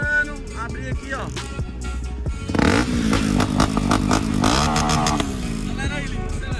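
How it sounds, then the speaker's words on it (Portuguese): A Honda XRE 300 Rally motorcycle with a 2-into-1 exhaust, revving loudly up close, the engine note rising and falling with rough, popping exhaust bursts, while a voice calls out over it. "Acelera aí, Lino, acelera"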